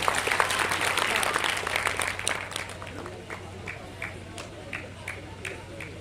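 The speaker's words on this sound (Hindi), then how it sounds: "आप लोग जोरदार तालियां बजाएं।" Loud applause from the audience at an all-India poetry gathering in a college hall, a thick burst of clapping that gradually thins to scattered individual claps, with a low steady hum underneath.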